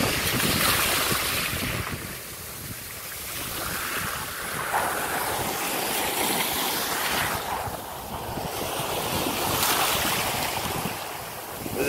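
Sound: ocean waves

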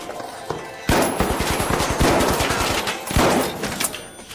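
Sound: Model 1887 gun firing in a video game

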